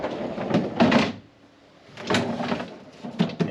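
Double doors of a large residential fridge and the freezer drawer beneath it being opened in a 2023 Grand Design Solitude fifth wheel RV, giving two bursts of clunks and rustling separated by a quiet pause.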